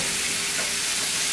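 Steak sizzles steadily in a hot pan with olive oil, a dense, continuous frying hiss that holds level and close for the whole moment, with no voices over it.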